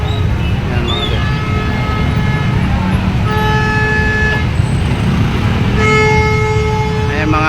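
Morning traffic jam at the Pasig public market, with a steady rumble of engines and several car horns tooting in short bursts, some held longer, close by and loud throughout.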